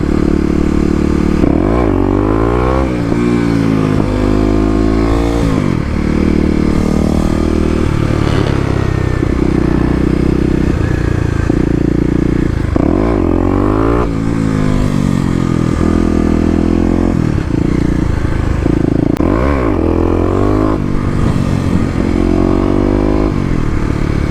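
A Kawasaki KLX250 dirt bike revs repeatedly during second-gear wheelie attempts, the engine climbing and dropping in a cycle of loud pulls with clattering and brief lulls between, close and continuous for the whole stretch.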